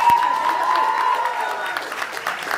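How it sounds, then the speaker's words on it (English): Audience applause at a televised cause-ambassador event, a steady wash of clapping from a crowd, moderately loud and continuous throughout. "A huge round of applause for whatever"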